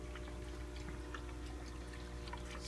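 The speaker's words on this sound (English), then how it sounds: "It's powered by air. Draws the water up into the box." Water flows through an air-powered hang-on aquarium overflow box with a downspout into the tank, giving a soft continuous trickle and pour with faint drips over a steady low pump hum.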